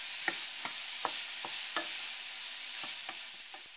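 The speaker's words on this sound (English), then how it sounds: "I'm going to stir this, and we're going to just let this cook until the apples are tender" A spoon stirs apple, raisin, cranberry and thyme stuffing in a sizzling pan, with soft, irregular scraping strokes over a constant frying hiss and no voices.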